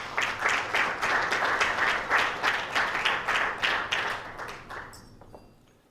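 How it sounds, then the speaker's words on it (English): Steady, lively audience applause with rhythmic clapping that holds for several seconds, then fades out quickly into near silence. "Big round of applause."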